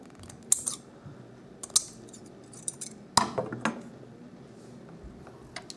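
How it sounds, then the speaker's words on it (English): Scissors snip through an ethernet cable's wires to trim them down for a terminal, giving several sharp, close metallic clicks spaced unevenly across a quiet indoor room with no talking. "our terminal is a little bit smaller than the wire, so we're going to have to cut it down"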